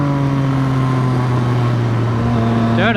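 Yamaha MT motorcycle engine holding a steady, loud drone with strong harmonic bands, a brief throttle blip rising near the end, close to the rider.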